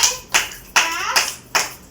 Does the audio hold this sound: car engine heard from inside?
no